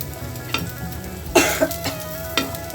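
Soft frying sizzle of pre-boiled chicken balls in a pan with a few sharp clinks and scrapes of stirring, quiet and close.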